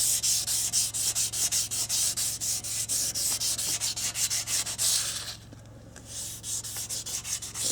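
Grit paper is rubbed over the plastic shield of a 2002 Honda XR100, close rhythmic scratchy strokes about five per second that pause briefly near the end, then resume.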